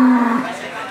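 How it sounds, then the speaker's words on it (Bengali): A large cow lows at a busy outdoor cattle market on a school playground in Sirajdikhan, one steady, fairly close moo that fades out under crowd murmur. "দেখেন বড় গরু"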